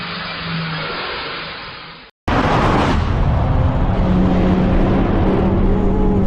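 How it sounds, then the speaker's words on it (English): An engine is pushed hard during a test run and over-revs into a loud, continuous roar. The sound is close and sustained and comes straight after a short, quieter engine passage that cuts off abruptly. "With just a single over-rev of the engine, a seemingly normal test run instantly turned into a moment that left everyone in total"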